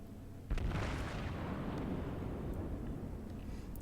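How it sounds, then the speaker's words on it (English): Battleship naval guns in a World of Warships naval battle boom once loudly near, the blast rolling out into a long rumbling decay over steady game background noise. "I was hoping I could lob some shells over this tiny island"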